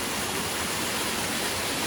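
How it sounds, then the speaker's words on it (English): Curtain falls of water dripping and trickling down a mountainside crevice into a pool in Worlds End State Park, a steady, close, even rushing hiss with no voices. "there's some curtain falls from the water dripping down the side of the mountain up here"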